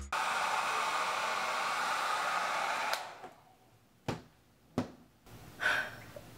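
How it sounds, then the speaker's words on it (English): A hair dryer blows steadily at close range while curly hair is dried straight, then switches off, followed by a few sharp handling clicks and light rustles. "Okay, I'm done blow drying."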